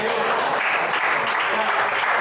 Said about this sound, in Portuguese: A igreja senta-se e bate as palmas para Jesus.